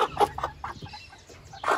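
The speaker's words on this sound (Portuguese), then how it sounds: "Eu tenho as galinhas poedeiras vermelhas" Young red laying hens in a farm coop cluck in short, close bursts, a few irregular calls over a quiet background with no talk.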